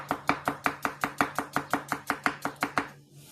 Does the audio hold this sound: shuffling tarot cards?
no